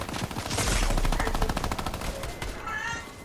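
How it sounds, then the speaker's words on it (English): A minigun in a video game fires a loud, sustained stream of rapid rattling shots for about three seconds, with a faint voice briefly in the background. "You're shooting me with a minigun!"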